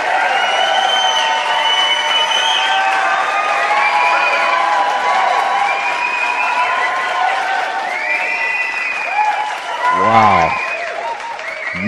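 Enthusiastic crowd cheering and applauding at a live show, a steady wash of clapping with whoops and shouts, with a brief spoken exclamation near the end.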